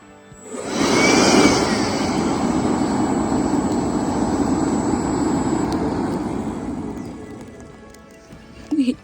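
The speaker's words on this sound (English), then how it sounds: "here's a fire starting hack for you if you have a little blower" A small handheld blower pushes air onto a campfire to get it going at an off-grid riverside camp: a loud, steady rushing roar holds for about eight seconds, then cuts off into a brief knock.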